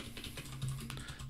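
Keys clatter steadily on a computer keyboard as a terminal command is typed on a Fedora 32 machine, a soft, even run of quick taps with no voice.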